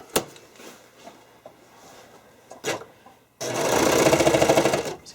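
Sewing machine stitching half-inch elastic onto the side of figure skating blade soakers, a few faint clicks and handling noises, then a steady loud whirring run of stitches near the end.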